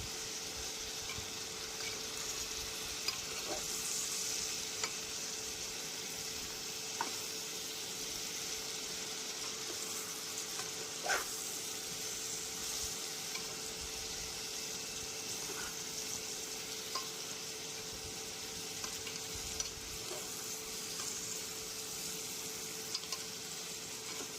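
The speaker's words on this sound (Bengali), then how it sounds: "মশলা সব দিয়ে দিয়েছি, এবার ভালো করে কষে নেওয়ার পালা।" Spices for a vegetable curry with papaya, potato and carrot sauté in a pan on an induction cooker, giving a steady low sizzle with occasional faint clicks and stirring scrapes throughout.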